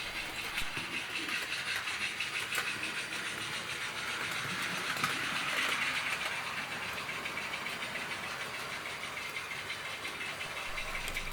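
Model trains run on a layout track, giving a continuous, fairly quiet mechanical whirr and rolling rattle with faint clicks, steady throughout and heard without talk.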